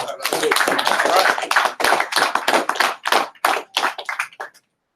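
Audience clapping at a talk, a dense burst of hand claps that thins into scattered, separate claps and stops abruptly after about four and a half seconds, with voices mixed in.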